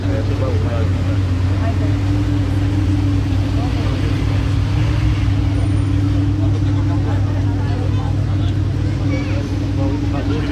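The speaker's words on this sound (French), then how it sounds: "il avait un bruit comme si c'était un générateur de bruit en plus du moteur" Ferrari 812 Novitec engine running near a casino, a steady loud low drone with a continuous generator-like hum layered over the motor, unbroken for the whole stretch.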